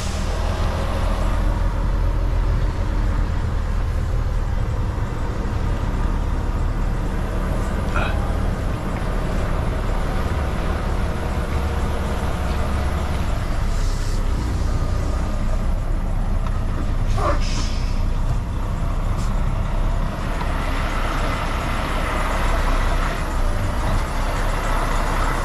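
Mack truck hauling an overweight load in Canada, a constant low engine rumble heard from inside the cab, broken by a couple of faint, brief hisses.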